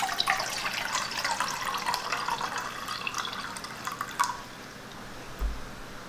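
Water pours into a metal canteen cup while an MRE is prepared, a steady close trickle and splash that thins to faint drips near the end.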